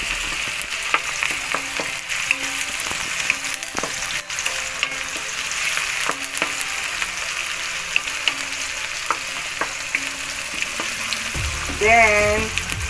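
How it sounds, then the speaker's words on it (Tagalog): Garlic sizzles and fries steadily in a hot pan, a continuous crackling hiss with scattered pops and stirring clinks close by, and a brief voice cuts in near the end. "Isangkutsan nyo lang mabuti."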